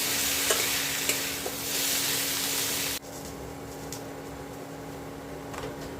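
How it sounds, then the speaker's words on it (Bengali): Mixed vegetables for Bengali shukto fry in a kadai with a dense, loud sizzle and a few stirring knocks, and the sizzle drops sharply halfway through, no voices. "সবজিগুলো ভালো করে নাড়াচাড়া করতে হবে"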